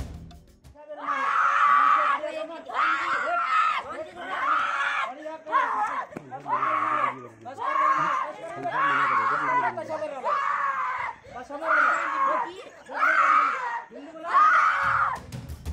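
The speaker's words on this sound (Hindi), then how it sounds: "ये छात्राएं आखिर क्यों इस कदर चिल्ला रही हैं, चीख रही हैं" Schoolgirls at a school scream together again and again in loud, repeated bursts of shrill, sustained shrieking, with brief pauses between waves and some yelling mixed in.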